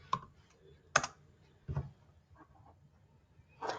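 Typing on a computer keyboard while entering a quiz game address, heard as a few separate, soft clicks and taps with pauses between them, fairly quiet and close.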